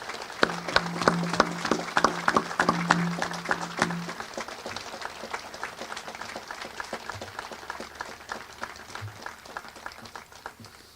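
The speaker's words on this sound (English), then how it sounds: "Please join me in a respectful round of applause to recognize these Gold Star family members" Crowd applause at an outdoor Vietnam memorial wall opening ceremony honoring Gold Star family members: steady clapping from many hands, fairly close, tapering off gradually over about ten seconds with no talk.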